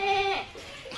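Goats bleat close by during a livestock sale, one loud drawn-out quavering call at the start, then fainter bleats and bustle behind it.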